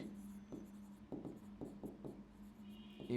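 Marker or chalk writing on a board while drawing a flowchart, with a series of short distinct strokes and taps, close and moderately loud against a steady low hum.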